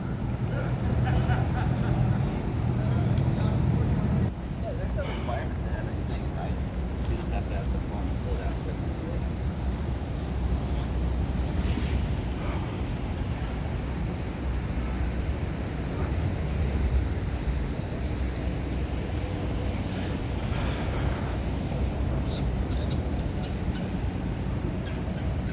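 A water taxi cruising along the New River in Fort Lauderdale, its steady engine rumble and water wash blended with wind buffeting the microphone, continuous and close throughout, with a voice speaking over it.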